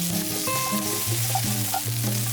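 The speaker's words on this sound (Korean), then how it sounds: "파, 마늘, 마른 고추, 오이, 호두를 넣고 볶아주세요." Scallions, garlic, dried chili, cucumber and walnuts being stir-fried in a pan, a steady close sizzle with the soft scrape of stirring.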